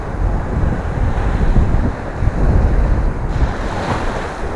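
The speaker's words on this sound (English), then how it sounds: "The Caribbean Sea, of course." Caribbean Sea waves washing onto the beach at Tulum, Mexico, a continuous loud rushing surf mixed with heavy wind buffeting the microphone.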